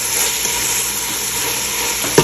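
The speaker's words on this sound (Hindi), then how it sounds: "उसके साथ ही हमारे प्याज भी अच्छे से भुन जाएंगे" Onions frying in a pan with ginger garlic paste and green chili for chicken do pyaza, a loud, continuous close sizzle with faint stirring and one sharp utensil knock at the end.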